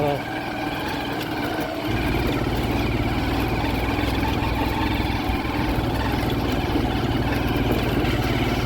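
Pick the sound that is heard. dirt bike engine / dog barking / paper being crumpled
dirt bike engine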